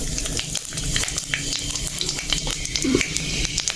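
Panch phoron spices hit hot oil with green chilli in the pan, crackling and sizzling in a steady hiss with small pops, while a voice speaks over it.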